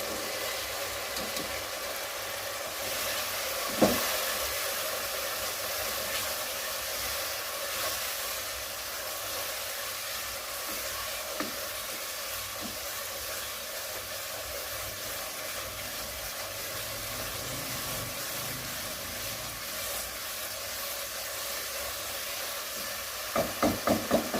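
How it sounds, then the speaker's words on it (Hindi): Boiled peas frying in a pan of spice masala give a steady close sizzling hiss that runs the whole time, with a few faint clanks of a utensil against the pan. "और मसाले में मैं मटर भून रही हूँ"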